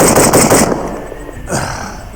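A 5.56 unsuppressed M16 rifle fires a rapid string of loud, sharp cracks up close, followed by a second short burst after a brief pause.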